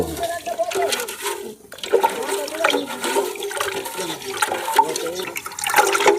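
Water is poured over jaggery and strained while making jivamrut organic fertilizer, a loud, close gush and splash that runs almost continuously, dipping briefly before resuming.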